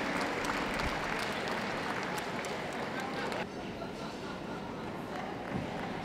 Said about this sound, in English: Big round of applause, please, to all those other best of breeds as they leave the ring